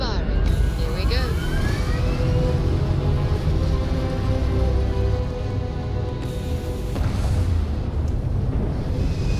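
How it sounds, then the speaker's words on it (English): Spaceship engines firing in Starfield, a loud, broad rumbling roar that holds steady for several seconds with tonal whines layered on top and a brief shift partway through. "Engines firing. Here we go."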